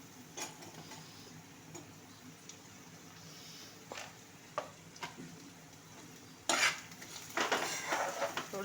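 Raw mango pieces sautéed with turmeric and coriander powder in a pan, heard as scattered metal clinks and scrapes of stirring with a soft sizzle, growing busier and louder toward the end.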